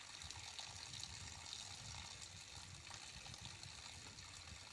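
Water rinsing through a sand filter for river water, a steady, fairly faint trickling and splashing wash that continues without a break.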